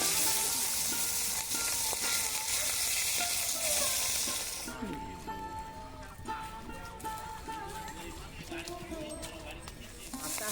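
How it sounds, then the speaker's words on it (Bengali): Pabda fish sizzles in hot oil in a home kitchen, a loud steady frying hiss that drops to a quieter crackle partway through, with occasional stirring clinks. "মাছটা দিয়ে দিলাম তেলে।"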